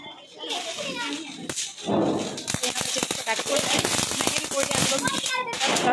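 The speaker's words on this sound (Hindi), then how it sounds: "कुछ पटाखा फोड़ रहे हैं, अनार फोड़ रहे हैं" Sharp firecracker pops and crackling bursts from firecrackers and fountain fireworks during Diwali go off repeatedly over a steady fizzing hiss, with children shouting and chattering throughout.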